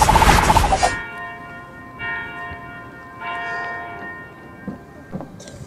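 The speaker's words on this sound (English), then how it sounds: "Three bells. We all know what 3 bells means." A church bell strikes three times, each toll ringing out and decaying slowly with a long sustained hum between strikes, after a brief loud burst of other sound at the start.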